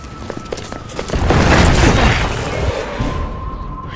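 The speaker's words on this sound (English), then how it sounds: "Commencing with bombing." Bombing in Resident Evil 6 sets off a loud, close explosion: a heavy boom swells into a long roaring blast with crashing debris before fading into rumble.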